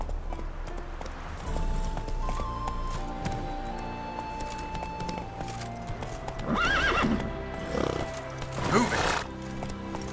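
Roach, the horse in The Witcher 3, gallops with rapid, rhythmic clip-clop hoofbeats, neighing and whinnying loudly a couple of times, while a voice briefly calls out over the hooves.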